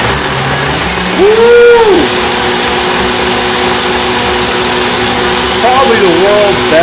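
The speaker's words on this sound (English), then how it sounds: "All right, we're blending. We're blending now. We're starting to break it up." A Vitamix blender blends a smoothie with a loud, steady motor roar throughout, while a voice whoops and calls out over it.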